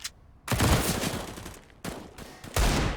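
Desert Eagle pistol shots and other rapid gunfire from a Counter-Strike match on the cobblestone map ring out in loud, close bursts, with a brief lull between volleys and no voices.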